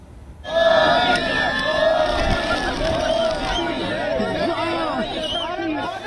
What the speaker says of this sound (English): Adoring Indian crowds welcoming the Indian Prime Minister.